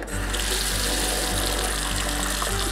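Tap water runs steadily into a sink during a hand-care routine, a constant close splashing stream with a low hum beneath it and no talk.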